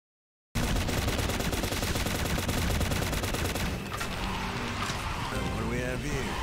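In the Shadowgun Legends video game, fast continuous automatic weapon fire rattles loudly and densely through a co-op boss fight, joined later by whooshing effects and some talking.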